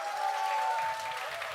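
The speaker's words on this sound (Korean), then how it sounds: "우리 장로님 나오실 때 큰 환영의 박수 하도록 하겠습니다." A church congregation claps in welcome as an elder comes forward, a dense steady burst of applause from a crowd in a worship hall, lasting only a moment with a sustained tone in the background.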